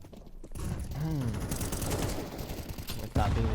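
Gunfire in a Counter-Strike 2 esports match, dense bursts of shots running continuously under a caster's voice, with a louder volley near the end.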